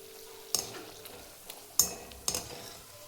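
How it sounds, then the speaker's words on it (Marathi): Cashews fry in a pan for maize chivda, with a soft background sizzle broken by three distinct clinks of a spoon against the pan. "तळून घ्यायचे आहेत काजू. खरपूस असे भाजून घ्यायचे."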